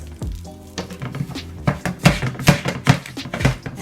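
Cooked rice goes into a hot pan with cashews, lemon rind and turmeric, producing a sizzle mixed with repeated scraping and tapping as the pan is stirred, close and fairly loud.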